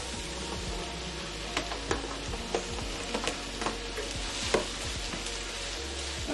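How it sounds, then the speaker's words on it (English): Cabbage frying with translucent onions in a pan, a continuous close sizzle broken by several sharp clicks and scrapes of stirring. "Our onions are translucent, so now I'm going to add my cabbage"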